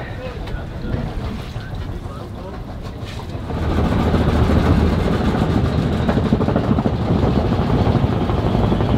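A large boat readied for a trip among the Belitung Islands, with a steady engine rumble and wind noise that grow noticeably louder and fuller partway through, continuing close and unbroken.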